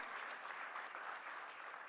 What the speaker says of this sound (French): je vous propose d'applaudir Ariella pour cet échange conclusif